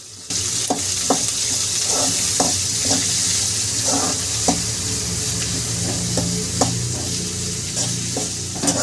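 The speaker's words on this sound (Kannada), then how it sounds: "ಚೆನ್ನಾಗಿ ಫ್ರೈ ಆಗ್ತಾ ಇದ್ದಂತೆ ಕಟ್ ಮಾಡಿಟ್ಟ ಈರುಳ್ಳಿ ಹಾಕಿ ಚೆನ್ನಾಗಿ ಮಿಕ್ಸ್ ಮಾಡಬೇಕು" Chopped onions frying and being stirred in a pan for a mushroom masala, with a steady loud sizzle broken by repeated scraping stirs throughout.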